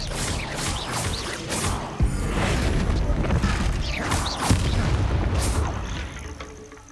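The Confringo blasting spell in Hogwarts Legacy sets off booming explosions over a continuous rumbling backdrop of magical effects, with sharp impacts near two and four and a half seconds and several whooshing bursts throughout.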